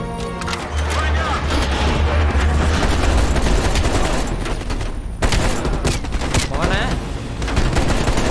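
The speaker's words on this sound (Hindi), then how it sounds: "लो इधर गोलियां मार रहे हैं" Rapid bursts of gunfire crackle continuously over loud game action in Call of Duty: Black Ops Cold War, with shots layered densely throughout and no clear pauses.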